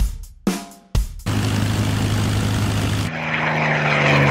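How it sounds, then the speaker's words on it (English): A World War II P-51 Mustang propeller fighter drones loudly overhead in a steady, sustained engine roar, preceded by a few sharp cut-in bursts. "The P-51 Mustang is a World War II fighter aircraft that was used to escort bombers to strike on Germany"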